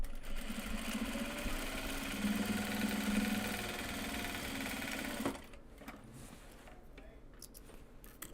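A sewing machine stitches steadily with a close mechanical whir while fabric project bags are being made. After about five seconds the machine stops, and only quiet clicks and handling noises follow.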